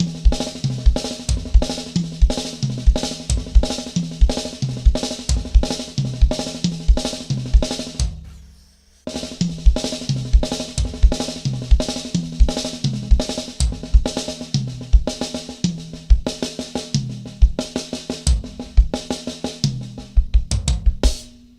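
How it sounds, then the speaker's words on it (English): Drum solo pattern with rapid groups of notes on snare drum moving around the toms, dense rhythmic strokes in repeating phrases, loud and close, briefly pausing midway before resuming. "we play the first 4 notes on the snare drum, then we take the right of the last 4 notes and move them around the toms"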